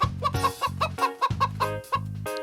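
A hen clucking in a children's story, a close series of short rhythmic clucks and brief squawks with no talk over them.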